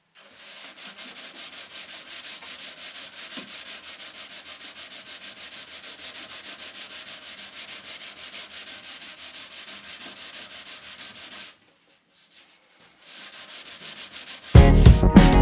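Steel wool rubbing wax by hand into a small wooden cabinet finished with dewaxed shellac, a steady scratchy rhythmic scrubbing for about eleven seconds, a brief pause, then more rubbing and a louder scrape at the end.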